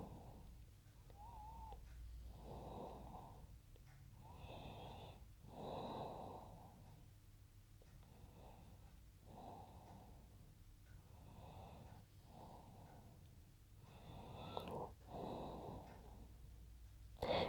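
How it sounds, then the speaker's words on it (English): Slow, deep exhaling breaths during a yin yoga pose, soft and close, repeating in a calm, regular rhythm with quiet gaps between each long breath. "Exhale fully."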